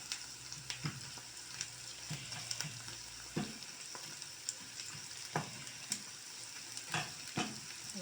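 Onions sizzle steadily in a pan, with occasional scrapes and taps of stirring, close and moderately quiet.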